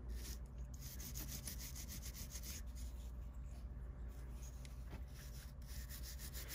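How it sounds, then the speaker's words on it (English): A brass brush scrubs across a metal jewelry pendant in a close, steady series of dry scratchy strokes. "brass brush, and I'm going to brush across"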